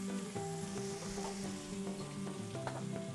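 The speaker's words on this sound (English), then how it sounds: "you can just hear it starting to sizzle right off the blocks" Ground chicken sizzles steadily in a hot pan, a constant crackling hiss with faint scraping and clinks of stirring throughout.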